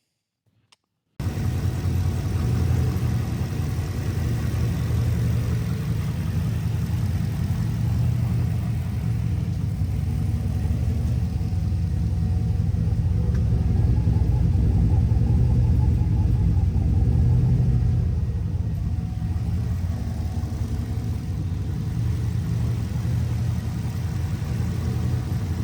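Car engine idling steadily close to the microphone after a brief silent start, a constant low rumble that swells slightly midway and then holds even to the end.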